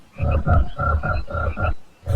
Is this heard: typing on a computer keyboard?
no